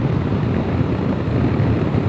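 Wind buffeting past the screen and helmet while riding a Honda Africa Twin motorcycle at speed, a constant low roaring rush, loud and steady, without voices.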